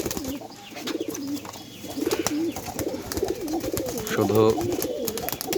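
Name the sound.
pigeon cooing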